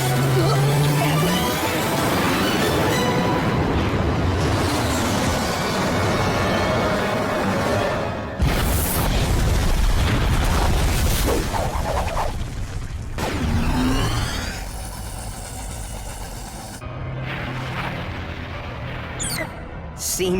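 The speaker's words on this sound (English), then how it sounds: "we've learned the megaton force of the turbo explosion" Cartoon turbo explosion in a Max Steel episode: a series of heavy booms and roaring blasts with crackling debris, loud and broken by sudden cuts and shifts in the mix.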